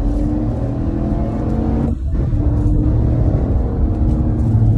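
A 2021 Chevrolet Tahoe LT with a 10-speed transmission accelerates from inside the cabin, a steady low engine rumble with a brief shift dip midway before the drone resumes.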